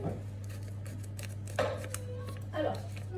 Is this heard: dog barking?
no